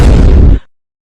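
A single loud, close Diwali firecracker bang with a sharp burst that cuts off abruptly, followed by brief fading rumble and silence.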